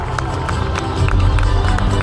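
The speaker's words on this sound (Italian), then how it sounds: "Fategli un enorme applauso." A crowd at an Italian political rally applauds the introduction of a regional vice-presidential candidate in Calabria, with loud clapping mixed with cheering and crowd noise, swelling slightly halfway through.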